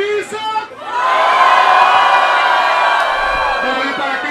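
A crowd at a street rap battle erupts into loud cheering and whooping that swells after a brief lull and holds as one dense roar for several seconds.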